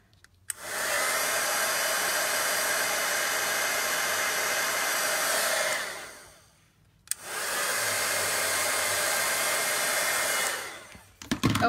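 A heat gun blows steadily on embossing powder on a snowflake card, a loud even whoosh in two long bursts separated by a brief pause, with no talking.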